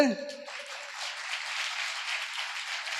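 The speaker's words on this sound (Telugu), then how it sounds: "ఇంకా చెప్పండి అన్నవాళ్ళు చప్పట్లు కొట్టండి" A church congregation breaks into clapping right after a voice ends, a soft, steady patter of many hands continuing for a few seconds.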